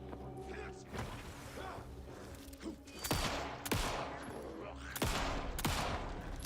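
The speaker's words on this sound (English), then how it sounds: "Does no one hear the gunshots?" Several sharp gunshots ring out in Alan Wake 2, sounding singly and in close pairs against a low ambient drone, with a few soft thuds between them.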